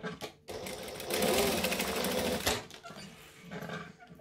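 A sewing machine stitches and backstitches a seam on a hexagon bag's lining gusset, running in a loud, close, continuous whirring burst that stops briefly, then resumes in a shorter run.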